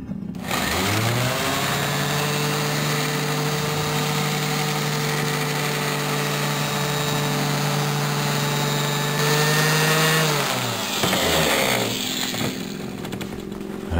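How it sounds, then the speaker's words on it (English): A random orbital sander whirs steadily and loudly against a chrome motorcycle exhaust pipe, taking off bluing; the tone holds for about ten seconds, then winds down near the end. "Fastest way to use blue job, use a good random orbital sander."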